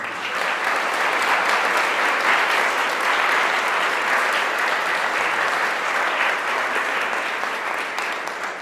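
An audience at a cultural event celebrating World Book Day gives loud, sustained applause. The thick wash of clapping holds evenly for nearly nine seconds and only softens slightly at the end.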